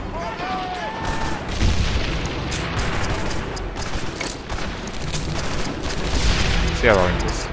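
In the WWII shooter Medal of Honor Airborne, dense battlefield noise of rifle fire and booming blasts, including a grenade explosion, runs continuously at close range, with loud sharp cracks over a rumbling background and voices audible in the mix.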